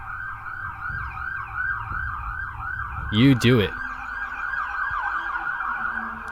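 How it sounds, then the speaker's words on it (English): A wailing ambulance siren passes outside a window beside an open expressway, sweeping up and down steadily throughout, with a short burst of nearby voice midway and faint road traffic underneath. "Go ambulance, that's outside my window."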